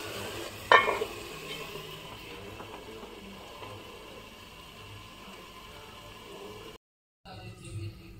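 Meat sautéing in a pan with almond paste, a steady low sizzle and stirring scrape with a few sharp metallic clinks near the start, then a brief break before stirring noise resumes.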